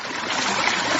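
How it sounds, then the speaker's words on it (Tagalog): A V9 sound card plays its water sound effect, a steady rushing, trickling flow like a running stream, loud and continuous for a second. "Tubig."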